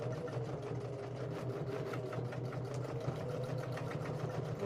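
A domestic sewing machine runs steadily while quilting, a continuous close mechanical hum with fast needle chatter, holding an even level throughout with no talking.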